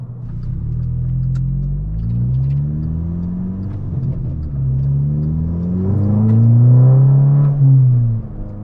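A VW GTI fitted with a new CTS turbo downpipe accelerates hard, its engine note rising through rolling, rumbling pulls that swell louder toward the end, close and with no talk over it.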